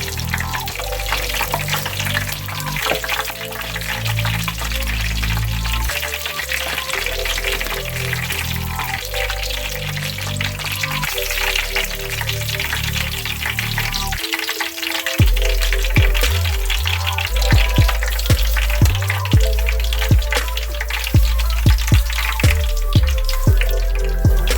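Crab meatballs for fried king crab lollipops sizzle and crackle in hot oil, a loud continuous hiss with bubbling and popping that grows busier and more crackly in the second half.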